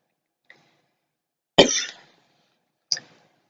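A woman coughs once sharply and close up, followed by a shorter second cough, with faint throat noises between long stretches of silence.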